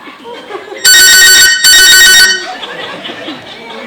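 A mobile phone rings in two loud electronic bursts with a short gap between, followed by faint background murmur and chatter on a stage.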